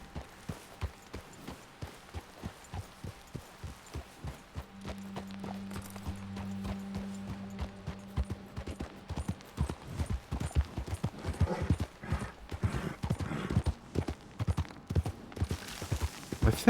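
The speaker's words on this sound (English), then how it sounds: "I think that sound effect is actually the horse." Horse hooves clip-clop steadily in Red Dead Redemption 2, starting as a slow rhythmic walk and quickening into a louder, denser trot, with a brief low hum partway through.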